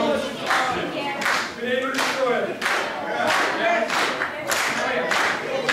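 A wrestling crowd at an RWA Triple Crown Championship match claps in a steady rhythmic beat for champion Kris Pyro, about two claps per second, with crowd voices and chanting underneath.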